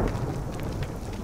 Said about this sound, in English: And it's thundering.